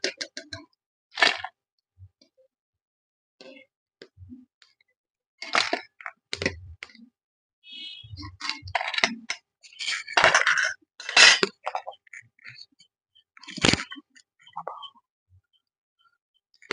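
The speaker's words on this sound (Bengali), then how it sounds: "দেখুন কেমন ঝনঝন আওয়াজ বেরোচ্ছে," Crispy fried nimki made from flour being lifted and tossed, producing scattered bursts of sharp clinks and brittle crunches against a metal utensil, close and fairly loud with quiet gaps between handlings, no voices.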